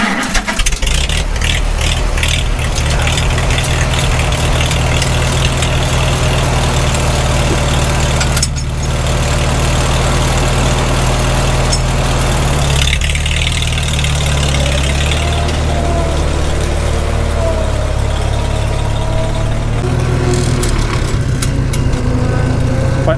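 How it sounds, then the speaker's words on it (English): A Farmall H tractor engine idles steadily, cold, with a continuous low rumble and a faint whine from the transmission gears running through it, close and loud; a couple of brief dips in level break the run. "can you hear that transmission gear whine?"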